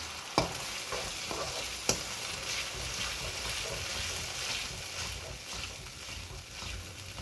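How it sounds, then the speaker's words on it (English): Manchurian sauce thickened with a cornflour slurry bubbles and sizzles steadily in a pan, a continuous close hiss broken by two sharp utensil knocks as it is stirred. "So just going to let all those sauces cook in there."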